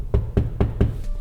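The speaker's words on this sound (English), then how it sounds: "I'm gonna knock on it, see if he opens up." Four firm knocks on a hotel room door in a Las Vegas resort penthouse villa, evenly spaced and close, with no voices.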